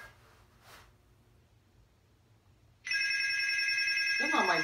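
A telephone bell suddenly starts ringing loudly and continuously after a few seconds of quiet room noise, with a rustle near the end.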